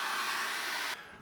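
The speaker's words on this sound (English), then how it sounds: "I'm going to dry that off with a hairdryer." A hairdryer blows steadily on a sunset painting in an art studio, a loud close broadband rush that drops abruptly in strength near the end, with no talk.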